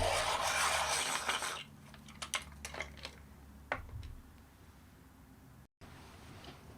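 Colored pencil sharpened in a handheld sharpener, a dry rasping grind for a second or two followed by a few light scattered ticks and scrapes, close and fairly quiet with no talking.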